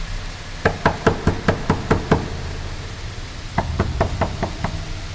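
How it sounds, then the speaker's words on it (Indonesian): Knocking on a door, with no voices: a quick run of seven sharp raps, a pause of over a second, then a second, slightly softer burst of about six knocks, close and loud. "Ketukan di pintu menjadi sedikit kuat."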